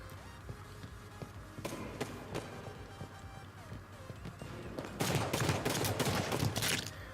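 Gunfire from several enemies in the Halo 5 video game, scattered shots at first, then a dense burst of rapid fire near the end over low game ambience.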